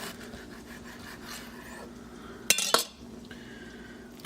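A knife slices through a Reuben sandwich with corned beef and sauerkraut, giving two short crisp crunching cuts close by, over quiet kitchen background.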